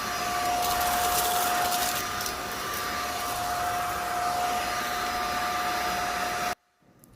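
A Zoker A10 cordless vacuum whines steadily as it sucks up spilled rice, with faint rattling of grains, before cutting off abruptly near the end.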